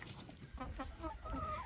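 An old hen clucking nearby in a small backyard flock, a short run of soft, quiet clucks with a few rising notes, alone and not under talk.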